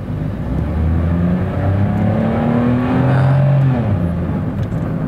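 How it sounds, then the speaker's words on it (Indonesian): A 2013 Nissan March engine drones loudly and steadily, its pitch climbing and shifting as it revs hard at high rpm at high speed, with road noise underneath. "Suara mesin juga cukup terdengar di putaran atas."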